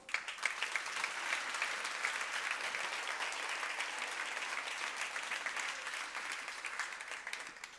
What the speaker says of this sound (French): Vous pouvez vous applaudir très très fort.